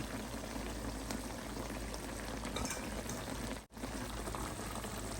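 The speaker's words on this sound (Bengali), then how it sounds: "মাছ রান্না করা হয়ে গেছে আর একটু ঝোল কমিয়ে নিব" Fish curry gravy simmering down in a pot, a dense continuous bubbling hiss with a brief dip near the end, no talking.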